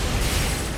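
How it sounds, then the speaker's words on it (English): Explosions from the Touhou video game Gouyoku Ibun erupt as a loud, dense burst of noise that holds steady across the short moment, with no voices over it. "Whoops, yeah, I saw the explosions there."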